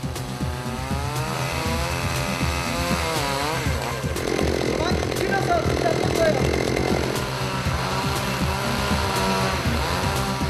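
Saw cutting through a tall log to trim it to house height at a wooden-house building workshop, a loud continuous motor whine rising in strain mid-cut, with background noise from the busy site.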